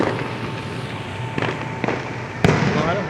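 Fireworks explode near a mall parking lot: a few scattered sharp cracks and bangs, the loudest near the end, set against a constant murmur of outdoor background noise.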